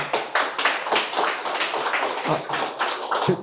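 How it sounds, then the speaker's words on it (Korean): An audience at a mayoral candidacy press conference claps, a dense patter of many hands in irregular bursts, fairly close and moderately loud, with a few stronger individual claps. "기자회견 중에는 박수 안 치셔도 됩니다"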